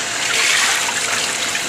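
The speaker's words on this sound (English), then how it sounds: "you always want to wash your chicken" Raw chicken is rinsed under running water, a continuous bright splashing rush, close and steady, with no talking.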